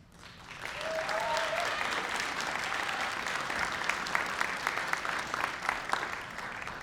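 Sustained applause from an audience at a December graduation ceremony for master's and bachelor's graduates, rising quickly and holding steady with scattered distinct claps.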